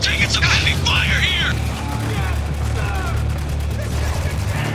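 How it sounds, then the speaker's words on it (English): Heavy gunfire rattles through a firefight in the video game Spec Ops: The Line, rapid bursts of automatic shots crackling over a low rumble, with voices shouting and talking throughout. "Shit, man, we're taking some heavy fire here."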